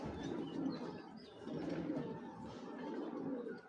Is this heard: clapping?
no